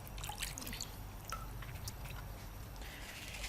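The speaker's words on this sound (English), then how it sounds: "I need to wash my hands." Tap water trickles and drips in a kitchen during hand washing, soft and close, with faint splashes and a few brief clatters over the steady flow.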